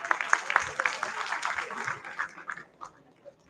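Audience applause in a hall at a conference performance, a dense patter of clapping that is loud at first and thins out toward the end, with some voices mixed in.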